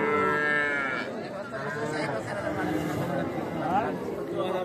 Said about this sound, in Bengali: এগুলো কিন্তু সব বকনা বাচ্চা